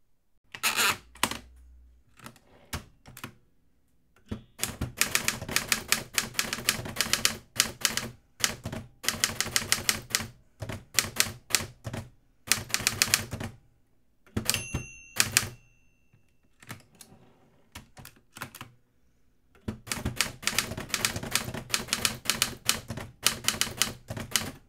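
Typing on a Hermes Ambassador typewriter: close, crisp bursts of rapid key strikes in uneven runs, broken by brief pauses and a carriage bell and return partway through.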